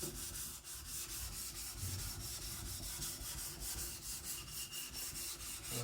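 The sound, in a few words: knife blade being sharpened along its main bevel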